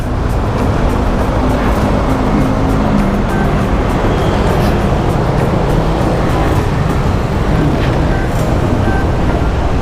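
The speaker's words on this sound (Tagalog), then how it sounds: "Napaka-traffic talaga." Road traffic heard while riding an XRM 125 Fi motorcycle, a loud, continuous roar of engines and wind noise, steady and close, with no voices.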